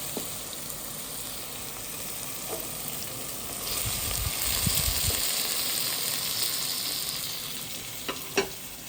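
Crushed ginger, tomatoes and green chillies frying in a pan, a continuous sizzle that swells as the pieces go in and are stirred, with a few clicks of a utensil near the end.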